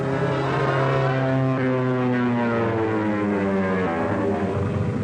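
A World War II-era propeller airplane drones loudly overhead in a 1942 film scene, a continuous throbbing engine roar with shifting pitch as it passes close by.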